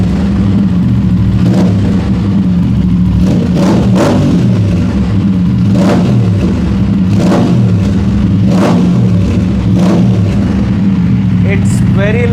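An Aprilia RS 457 motorcycle with a GPR Ghost Inox full system exhaust roars loudly and deeply, rising in repeated revving surges, with a throaty exhaust rumble filling the foreground.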